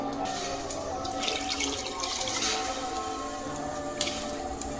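Running tap water splashes steadily over soaked soya chunks being rinsed in a sink, a continuous close hiss with no voices.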